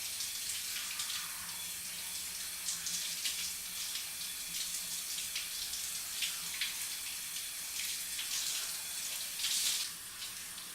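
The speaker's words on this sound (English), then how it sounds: "We want to rinse really well before we put conditioner on our hair." Running water pours steadily while hair is being rinsed, a continuous hiss of splashing water heard close up with small shifts as the hair is moved around.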